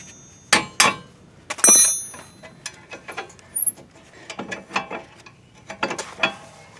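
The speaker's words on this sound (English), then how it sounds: "So I'll get these 2 bolts out" A ratchet loosening 14 mm rear brake bolts on a 2017 Mazda 3 with electric parking brake: sharp metallic clicks and clinks in scattered close bursts, separated by short quiet gaps.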